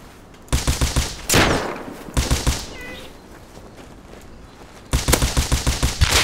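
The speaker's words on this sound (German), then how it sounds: "Das war der schlechteste Schuss in der Geschichte der schlechten Schüsse." Rapid bursts of automatic gunfire from the survival game Rust, battle royale mode, crackle loudly in three clusters of quick evenly spaced shots, separated by a sharp single blast and quieter stretches.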